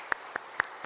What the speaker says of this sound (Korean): 우리 크게 박수로 환영할까요?